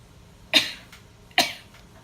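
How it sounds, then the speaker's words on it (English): Two sharp, close bursts of breath a little under a second apart, each fading quickly, like someone sneezing twice. "oh my goodness, I have to sneeze"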